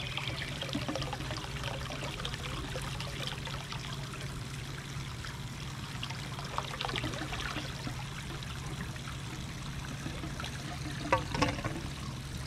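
A water valve in a tank drains down toward holes near its bottom, a steady trickling stream running throughout with a few soft gurgling burps as the siphon breaks, loudest near the end.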